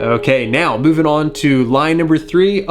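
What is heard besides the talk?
No distinct noise like a dog, phone or traffic.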